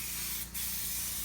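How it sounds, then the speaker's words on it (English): A sprayer at a construction site gives a steady, loud hiss that keeps up almost the whole time, dipping only briefly once. "They use the sprayer."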